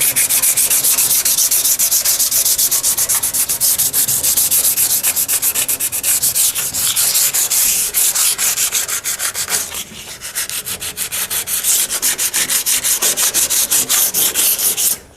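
Continuous abrasive sanding, loud and close, on a 1972 Chevrolet C10 in prep for Raptor liner, a steady gritty rasp with rapid rhythmic scratching that runs throughout without pause.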